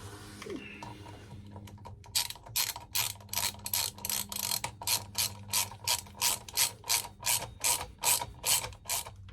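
Hand ratchet tightening front brake bolts on a 2016 Harley-Davidson Road Glide, a rapid run of crisp metallic clicks in steady bursts, close and loud after a short pause.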